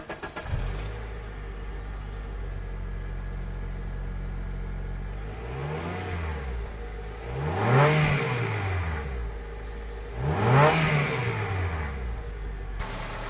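Honda CR-V from 2007 with a 2.4-liter VTEC engine, 166 horsepower and high miles, idling steadily and then revved twice in quick, rising-and-falling bursts. The sound is close and clear, with no talking.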